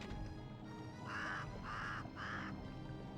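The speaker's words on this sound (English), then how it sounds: "the bird squawking is actually the secret noise" Three bright bird squawks play as a secret-found cue in a 2009 Kickstarter-backed video game. The evenly spaced calls sound like cawing and come through loud over a low game background hum.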